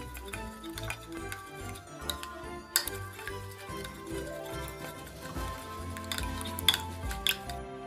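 A chicken and cheese ball mixture with egg white and salt is stirred in a bowl, making light scraping and occasional sharp clinks of a utensil against the bowl over a soft tonal background.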